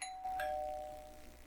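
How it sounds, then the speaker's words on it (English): A doorbell chimes once, faint and electronic, with its two tones ringing clearly and fading out over about a second against a quiet background. "That wasn't really the doorbell. That was the video."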